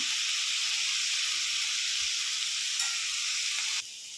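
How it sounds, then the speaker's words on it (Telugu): Onions and taro frying in a pan for taro curry, giving a dense, steady close-up sizzle and hiss that holds for about four seconds before dropping off sharply at the end, no talking. "ఇవైతే ఎగినాయి ఇప్పుడు చామదుంపలు కూడా వేసుకున్నాం"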